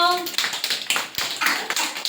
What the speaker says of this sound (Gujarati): ચાલો તાળી પાડો